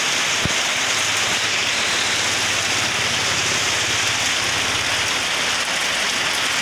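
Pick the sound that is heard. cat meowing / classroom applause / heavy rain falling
heavy rain falling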